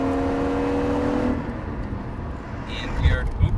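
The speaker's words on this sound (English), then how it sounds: "Rev limiter." A Lexus IS300 SportCross engine holds a steady, buzzing drone at the rev limiter for just over a second, then cuts off, leaving road noise under someone talking from inside the car.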